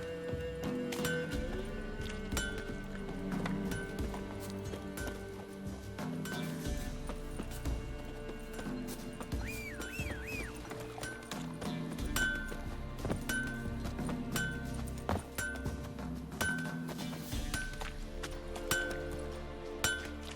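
Roach, a horse in The Witcher 3 video game, gallops with steady clip-clop hoofbeats and faint tack clinks, running under a continuous orchestral game score with no one speaking.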